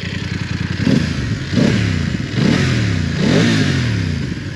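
A warm BMW F 850 GS Adventure 2022 motorcycle exhaust revs up three or four times in a row, each deep, throaty blip rising and falling, close and loud with no talking.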